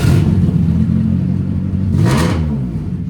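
A car engine with a replaced, very loud aftermarket-sounding muffler idles with a deep rumble, then revs up sharply and falls back, close and loud with no talking.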